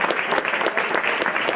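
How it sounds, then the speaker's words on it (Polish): Audience applause for a runner at a forest race event, steady dense clapping from a crowd throughout, close and lively. "Brawa jak najbardziej wskazane."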